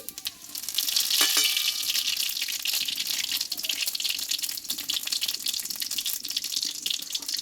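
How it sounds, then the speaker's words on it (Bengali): Panch phoron and a pinch of asafoetida crackle and hiss loudly in hot oil on a stove, a dense continuous sizzle from start to finish with no voices. "এই তেলে দেবো হাফ চামচ মতো পাঁচফোড়ন আর দেবো একটু হিং"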